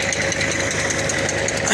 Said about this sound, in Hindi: तो मतलब कि वीडियो भी बन रही है और ट्रैक्टर भी चल रहा है।